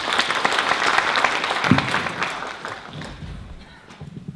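An audience at a March 1st Movement symposium panel discussion welcomes a pastor joining the panel with full, sustained applause that thins toward the end, with some murmuring under it.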